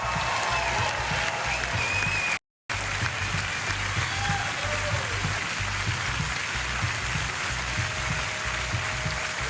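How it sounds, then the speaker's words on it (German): A studio audience at a Eurovision national selection show gives steady, sustained applause for nearly ten seconds, a dense even clatter interrupted by one brief cut. "es würde helfen, wenn wir von da vorne aus dem grossen Eurovision-Studio mal noch einen fetten Applaus für alle unsere Kandidatinnen und Kandidaten"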